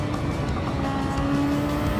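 A Super Formula race car driven with a steering wheel controller in Gran Turismo 7 holds a loud, continuous engine drone with a rising tone, with a faint hint of tire scrub.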